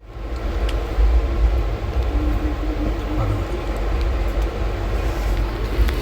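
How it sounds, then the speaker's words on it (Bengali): A train pulls into platform 1 of a railway station with a steady, heavy low rumble that rises at the start and holds close and loud for the whole stretch, with no clear voices over it. "প্ল্যাটফর্ম 1-এ আছি, দেখো ঘড়ি 8:42, সেই যে আমাদের ট্রেন ঢুকছে"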